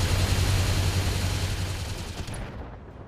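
Turret weapons in the BattleTech video game fire a dense, continuous barrage of rapid gunfire, loud and steady, before abruptly cutting off near the end.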